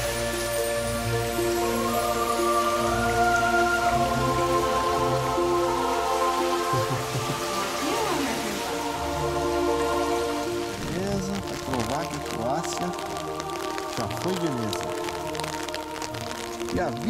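Steady rain falls on a cold day in Pula, Croatia, a continuous patter with scattered drips, while voices and other tonal sounds rise and fall above it throughout.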